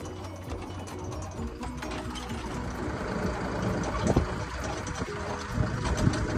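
Tractor engine rumbling steadily close by in a Carlsbad, California strawberry field, a continuous loud drone with a few brief knocks and bumps and faint voices underneath.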